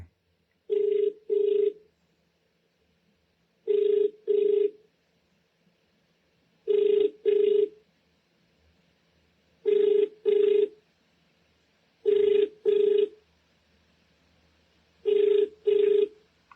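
A telephone ringback tone heard while a call is being placed: clear paired ring bursts repeat about every three seconds, six double rings in all, with quiet gaps between them and no talking.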